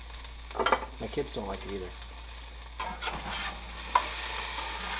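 Potatoes fry in a pan for corned beef hash, with a steady faint sizzle and a few scraping stirs, while a person talks briefly over the cooking.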